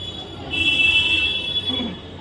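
Metro train pulling in with a sustained high metallic wheel squeal rising over low rumble, loud and close on the platform, lasting most of the moment before fading.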